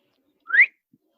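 A single brief rising whistle, made by a voice mimicking a phone notification going off in an office, sounds close and clear against silence.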